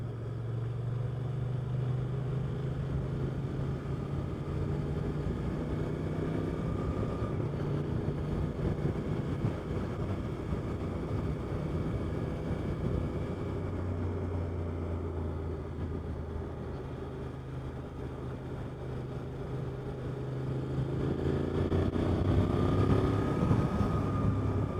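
A 2025 Suzuki GSX-8R fitted with an aftermarket exhaust can cruises along the road, its engine a steady, moderately distant drone with gentle pitch shifts as speed changes and a fuller swell near the end, heard without talk.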